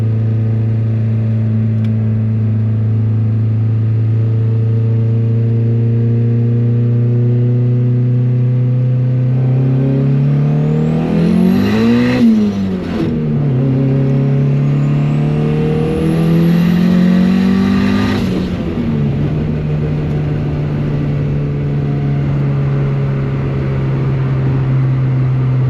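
A turbocharged Honda Civic running 26 PSI of boost accelerates hard, its loud engine note rising in steady pulls with sharp upshift dips and a high turbo whine, heard close and alone without talk.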